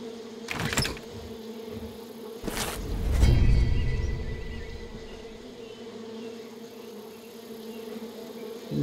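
Bees in the video game Far Cry New Dawn give a faint, steady buzzing hum throughout, interrupted early by a couple of sharp clicks and a brief thud.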